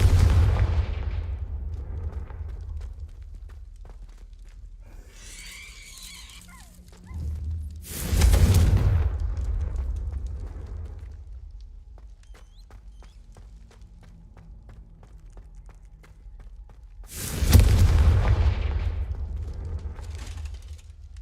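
Loud blasting explosions from the Confringo fire spell in Hogwarts Legacy, two big booming bursts several seconds apart, each with a sharp onset and long rumbling decay over a low ambient game drone.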